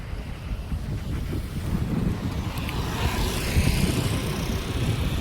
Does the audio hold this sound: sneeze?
no